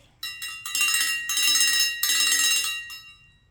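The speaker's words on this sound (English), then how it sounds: "I'm going to ring the bell so we could get in alignment with the energy of the ancestors" A bell is rung several times in quick succession as part of a spiritual ancestor ritual, each bright, ringing strike overlapping the last decay, with no talking.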